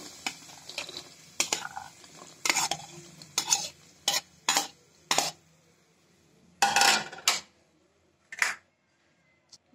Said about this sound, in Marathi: आता मगाशी धान्य हे केलेलं कडधान्य सगळं ह्याच्यात घालायचं